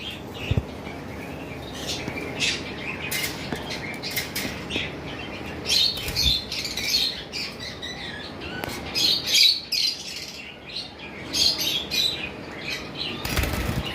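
Small budgerigars, violet double-factor mutations, chirping and squawking in bursts alongside fluttering wing flaps and rustling, fairly close, with quiet gaps between.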